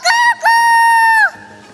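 On a kids' TV segment, a person's voice imitates a chicken's crow: a short call, then a long, loud, held cry that drops off at the end.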